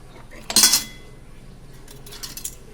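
A metal teaspoon clinks against a glass container or dish while measuring out almond oil for homemade rose oil, one bright chink followed by a fainter clink a moment later, with no talk.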